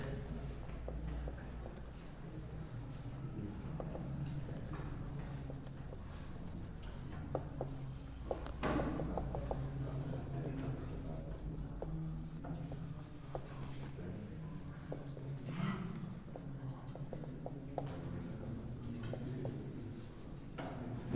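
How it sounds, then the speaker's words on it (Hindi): A title is being written by hand, with soft, continuous scratching and tapping strokes of a pen or chalk at close range. The sound is faint and runs steadily the whole time, with occasional sharper taps. "मैं ये टाइटल जरा लिख देता हूँ"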